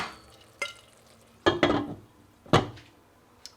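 Tomato and sugar mixture cooking in a pot on a stove, heard as three or four short, close stirring scrapes with bursts of sizzle between quieter pauses, no voices.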